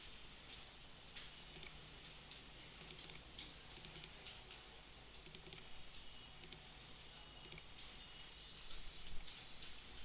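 Rapid typing on a computer keyboard, a continuous patter of light key clicks in irregular bursts, close and fairly quiet throughout, with no voices.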